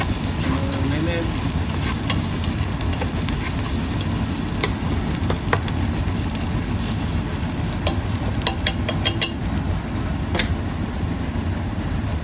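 Ginger and garlic fry in a pan with a constant dense sizzle, while a utensil stirs and taps against the metal in scattered clicks, a voice faintly audible beneath.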